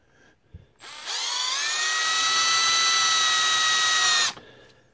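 A power drill with a 9/64 bit starts a hole in a part for a static grass applicator build, giving a single loud, steady high-pitched whine for about three seconds that spins up sharply and then cuts off.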